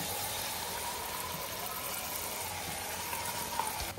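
Beerakaya keema curry frying in a pan at home: a steady, even sizzle of ingredients in hot oil holding at moderate loudness throughout, without talking.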